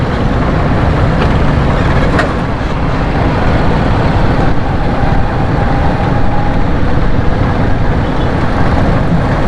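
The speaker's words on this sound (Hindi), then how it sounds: "ये देखें जैसे ये मोटरसाइकिल वाले सारे जा रहे हैं" Motorcycles and other traffic move along a rain-soaked street with standing water and potholes, producing a loud continuous rumble of engines and tyre wash close by, with a brief horn-like tone partway through.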